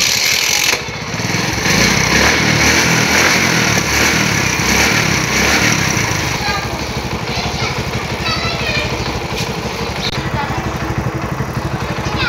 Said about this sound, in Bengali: এখন আমি স্টার্ট দিয়ে তেলটা শেষ করে নিব, কার্বুরেটরের যে তেলটা জমা আছে সেই তেলটা শেষ করে নিব।